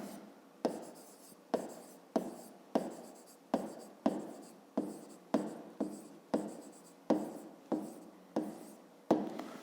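Chalk or marker writing on a board during a fifth-grade geometry lesson, about fifteen regular tapping strokes with scratchy trails, close and distinct, with no talk.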